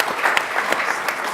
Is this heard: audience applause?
yes